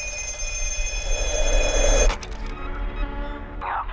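A black telephone in a movie trailer rings with a loud, rapid electric bell trill that cuts off abruptly, followed by brief clattering and a quieter tonal swell under a low rumbling score.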